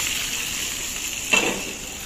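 Saag fries in ghee in a clay pot, a sudden brief burst of sizzling that flares up against a quiet background hiss, close by, with no talk.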